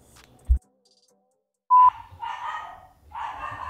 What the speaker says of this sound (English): This time it's Winston, the dog. No doubt angry about someone or something just casually walking by.